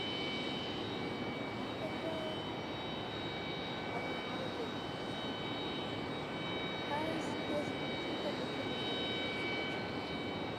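A steady, loud roar of an American Airlines retro jet in chrome livery arriving to land at Raleigh-Durham International, a continuous broadband rumble with faint high tones that holds throughout the approach.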